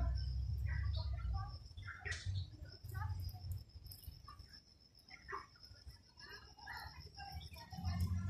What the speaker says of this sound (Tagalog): Ang tahimik, marinig mo lang yung huni ng ibon.